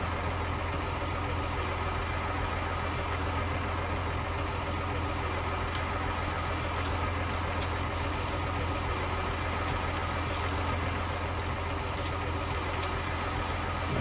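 A tractor engine in Farming Simulator 19 idles steadily with a constant low drone, unchanging and alone throughout.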